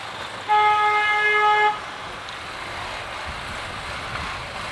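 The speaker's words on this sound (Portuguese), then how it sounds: "Pensei que era pra mim que o cara tava buzinando lá." A car horn sounds one sustained honk of just over a second from some distance, cutting through steady outdoor street noise that carries on after it stops.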